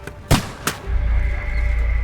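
Two sharp, loud gunshot cracks in the medieval video game Kingdom Come Deliverance 2 come in quick succession, followed by a low rumbling boom that lingers.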